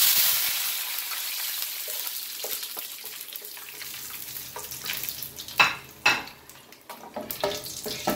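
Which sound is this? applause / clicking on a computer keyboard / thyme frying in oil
thyme frying in oil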